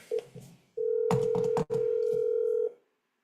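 A telephone dial tone hums steadily while a phone number is being called, broken by a few short dialing clicks before it cuts off.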